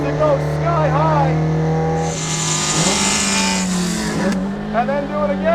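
An original Toyota AE86 drifting on a wet road, its engine wailing and climbing high in revs with loud sustained harmonics and tyre hiss, the note sweeping up and down across the whole stretch while a voice speaks over it.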